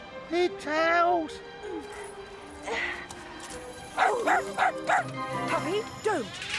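A cartoon puppy in an animated film gives a series of high, yappy barks and whimpers in short bursts, with children's voices talking around them.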